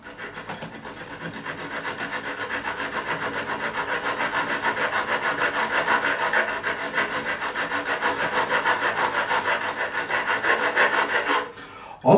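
Steady rhythmic rasping of a file stroking back and forth across the frets of an Ibanez Roadstar II RG200 neck during a refret, close and continuous for most of the run before stopping near the end.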